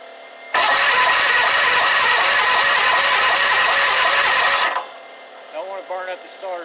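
Exmark mower engine with a newly installed starter cranks loudly and continuously for about four seconds without firing, then stops; a voice talks briefly afterward.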